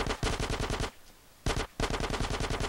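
Rapid automatic gunfire in GTA San Andreas, close and loud, in two long bursts of evenly spaced shots separated by a brief pause, with a short extra burst between them.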